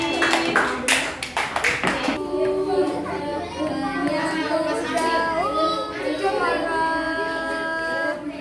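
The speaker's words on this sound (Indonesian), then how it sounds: "Tepuk tangan untuk Mas Raffi." Primary schoolchildren in a classroom clap for a classmate, a short burst of brisk applause fading into children's voices and chatter.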